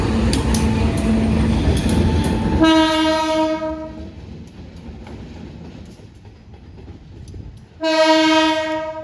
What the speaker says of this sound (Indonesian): Tadi bawa 2 lokomotif dari dalam Balai Yasa, CC206, 203 ya.